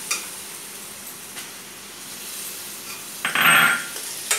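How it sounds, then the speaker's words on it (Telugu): Tomato pieces drop into a hot pan of kurma with a faint sizzle, then a brief louder burst of hissing and a light clatter of utensil against the pan, close and without speech. "ఇప్పుడు టమాటా ముక్కలు వేసుకుందాం."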